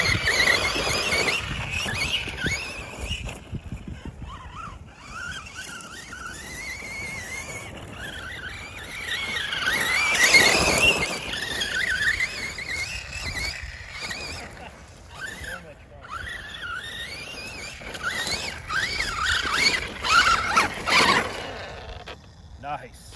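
A Losi Lasernut RC car runs at full throttle, its electric motor whining in rising and falling pitches as it speeds up and slows down, with voices partly over it.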